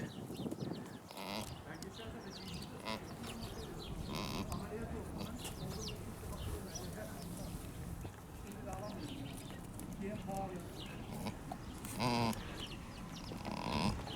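Heavily pregnant original Aleppo-type Maltese dairy goat lying down near term, groaning in distress amid farmyard livestock noise, with people talking nearby throughout.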